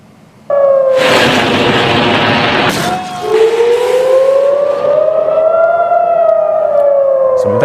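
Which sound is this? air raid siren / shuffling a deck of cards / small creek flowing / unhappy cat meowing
air raid siren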